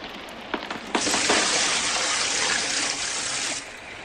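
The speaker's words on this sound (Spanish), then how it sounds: "cogí un cubo de agua que vertí sobre las llamas. El estrepitoso sonido del desvanecimiento de las llamas inundó la habitación" Water from a bucket is poured onto a fire as a radio drama effect, a loud continuous rushing hiss lasting about three seconds after a few preceding splashes, then cutting off.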